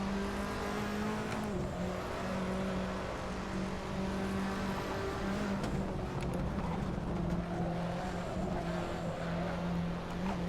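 Fiat Tipo engine under throttle in a racing video game at Road Atlanta, a steady droning note that holds and shifts pitch through gear changes, with faint tire noise underneath and no talk.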